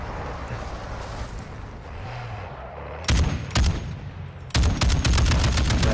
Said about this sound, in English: he's just shooting the window, right?